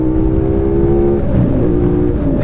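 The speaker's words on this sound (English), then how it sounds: "the sound that this engine makes is it's fantastic" A CFMOTO 450NK/800NK motorcycle engine with a 270-degree crank revs, a loud, throbbing exhaust note that rises and falls in pitch, close by and alone.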